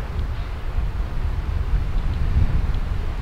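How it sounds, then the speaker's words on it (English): Steady wind gusting across an open golf course at about 10-15 miles an hour, a continuous low rumbling buffet on the microphone with gentle swells and no voices. "The wind's picked up to about 10-15 miles an hour just in the last hole or so."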